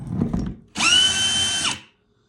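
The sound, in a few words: power drill running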